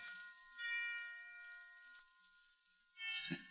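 Bright, sustained bell tones ring out in overlapping chimes, swelling twice with a louder clang near the end.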